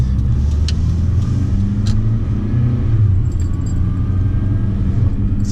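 A car travels along and turns right onto a one-way city street, heard from inside as a loud, steady low engine and road rumble with faint rattles and a brief jingle of keys.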